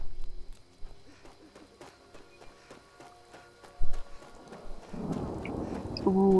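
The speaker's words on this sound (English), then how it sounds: "Ooh, it's raining." Rain falls steadily in the video game Skyrim while a low ambient drone and faint rhythmic ticking run underneath, and a louder thud-like rumble briefly swells midway before the rain thickens toward the end.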